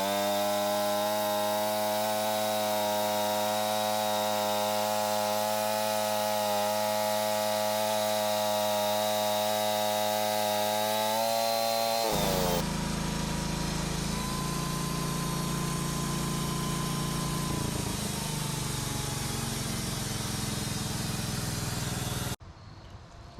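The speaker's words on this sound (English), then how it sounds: "now I'm going to cut some boards off of this, probably 2-inch wide, all the way down" A homemade sawmill cuts boards from a log, with a steady loud engine drone whose pitch drops partway through as the blade bites into the wood, continuous and close until it suddenly stops.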